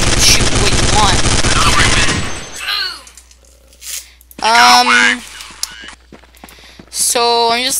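Gunfire in the Counter-Strike shooter game: a dense, loud burst of rapid shots fills the first two seconds, then quieter scattered game effects and short tonal sounds follow with gaps between them.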